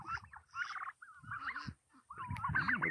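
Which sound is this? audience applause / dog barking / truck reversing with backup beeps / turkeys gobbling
turkeys gobbling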